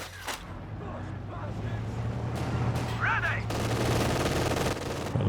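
SMG fire and battle noise in Company of Heroes 2, bursts of gunfire and explosions at moderate distance, with someone talking over them throughout.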